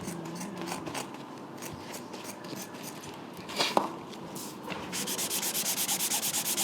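A swatch of indigo denim is scraped across blank white paper, producing a steady dry rubbing rasp that ends in a quick run of rhythmic repeated strokes, close and moderately quiet.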